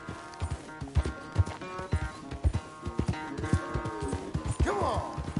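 Horse hooves clip-clop at a steady gait in the Western video game Red Dead Redemption, sounding close and regular under a man's spoken lines, with a brief whinny-like rise near the end.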